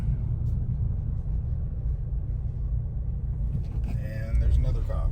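Low, continuous engine and road rumble from a car circling a roundabout after a rear motor mount installation, with people talking over it near the end.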